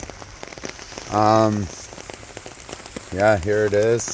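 Steady rain falls on a backyard garden pond with a waterfall and pump, a soft continuous patter throughout, while someone talks briefly in two bursts over it.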